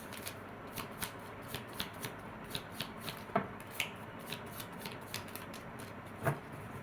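A deck of tarot cards being shuffled, a steady run of soft riffling flicks and light slaps repeating at a brisk even pace, close and quiet over a faint background hiss.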